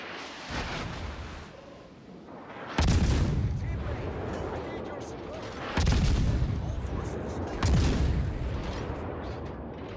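Gunfire on a target in a naval video game, heavy booming shots landing in a few loud bursts that each fade into rumbling, with voices talking over them.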